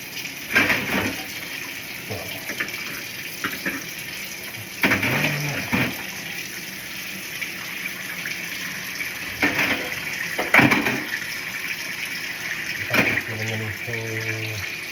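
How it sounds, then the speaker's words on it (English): Hot water runs steadily from a tap into a basin, with intermittent splashing and clatter, and occasional faint voices in the background. "Yeah, hot, clean water."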